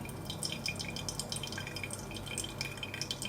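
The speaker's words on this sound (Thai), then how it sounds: "ให้ดูการไหลของน้ำก็ไม่ต่างกันนะครับ" Water trickles and drips through a Hario V60 paper coffee filter, a steady, close patter of small droplets running continuously without pause.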